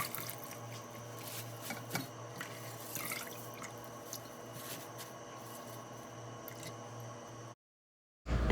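Salad greens for a shrimp Caesar salad rinsed under a running kitchen tap, a steady close water hiss with faint drips and small handling knocks, cutting to near silence at the end.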